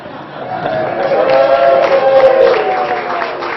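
A conference audience at a Technori startup pitch event in Dubuque cheers and claps for a group selfie, a loud, sustained burst of mixed voices and applause swelling in the middle and easing toward the end.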